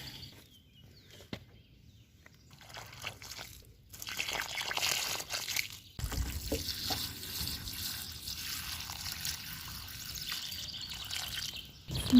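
Water trickles and splashes onto freshly planted soil in a flowerbed of scabiosa, supertunia and liatris, a steady close wash that swells louder partway through and runs continuously with no talking.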